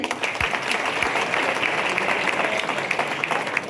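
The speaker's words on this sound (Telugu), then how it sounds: "నిద్రపోయేటోళ్ళు ఒకసారి గట్టిగా చప్పట్లు కొట్టండి" Audience at a business opportunity meeting in Medak clapping loudly together, a dense steady burst of applause that sustains evenly throughout without pause.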